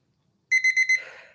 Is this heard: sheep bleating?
no